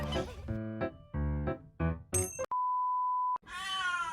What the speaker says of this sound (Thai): โคโก้เป็นแมวนักพูดค่ะ พูดเก่งมาก โดยเฉพาะตอนเช้าจะมาร้องให้พาออกไปเล่นหน้าบ้านทุกวัน